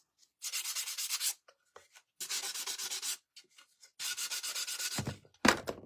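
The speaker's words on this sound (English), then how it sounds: "I can't hold on to my sander." A handheld sander smooths the edges of a wooden round in three or four short, rasping bursts separated by pauses, close and fairly loud, with a couple of handling bumps at the end.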